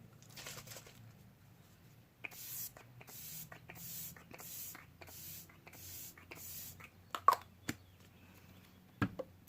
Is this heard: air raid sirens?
no